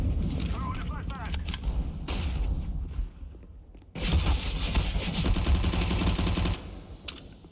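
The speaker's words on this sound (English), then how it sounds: "Throwing a flashbang" A flashbang grenade goes off in a CS:GO match: a sudden loud broadband burst lands about four seconds in and rings on for roughly two and a half seconds, among gunfire and footsteps from the game.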